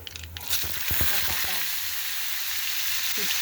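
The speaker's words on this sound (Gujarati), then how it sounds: "રાઈ તતડી રહી, જીરું તતડી રહ્યું।" Mustard and cumin seeds splutter in hot oil, a continuous close sizzle dotted with sharp popping crackles early on.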